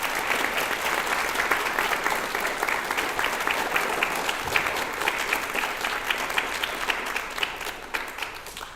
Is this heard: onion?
no